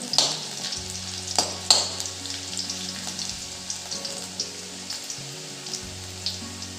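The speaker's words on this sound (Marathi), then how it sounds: "मिरच्याही छान आपण अशा तळून घेऊ" Green chillies fry in hot oil for dahi pohe chivda, a soft steady sizzle with a few sharp crackling pops near the start and low background hum, no talking.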